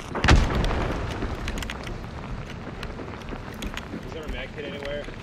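A dynamite blast in the video game Hunt: Showdown bursts loudly right at the start, then trails off into a low rumble with scattered game noise and voices underneath.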